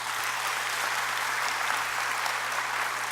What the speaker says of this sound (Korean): 박수 한번 쳐줄까요?